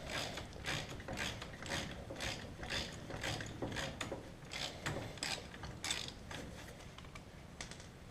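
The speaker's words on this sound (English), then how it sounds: "Ratchet." Ratchet wrench turning the caliper bolts on a Can-Am (Bombardier) DS650 front wheel, a quiet, rapid run of clicking strokes repeating in short bursts at close range, heard alone.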